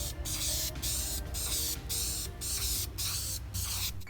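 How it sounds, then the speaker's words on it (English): Lacquer sprayed from an aerosol can onto an arcade cabinet control deck in a series of about seven short rhythmic hissing bursts with brief gaps, close and loud. "I'll spray it down a couple more times with that."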